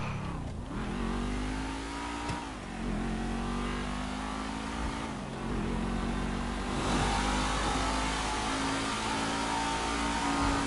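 A car engine in GTA V revs and accelerates as the car drives, pitch climbing through several gear shifts, a steady loud mid-range drone without speech.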